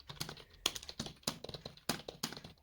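Rapid typing on a computer keyboard, both hands working the keys in a steady patter of clicks punctuated by a few harder, louder keystrokes, close and alone.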